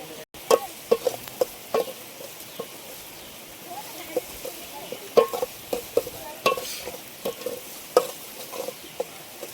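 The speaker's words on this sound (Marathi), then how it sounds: "कांदा भाजून वाटण बनवलं आहे टाकतोय आता ग्रेव्हीसाठी" Roasted onion and dried coconut paste frying in a pan for chicken gravy, cooked outdoors in a forest, with repeated clattering stirs and scrapes over a soft sizzle, a voice briefly in the background.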